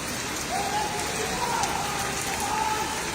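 Heavy typhoon rain pours steadily in a flooded street in Tatalon, Quezon City, a dense continuous hiss with faint voices underneath.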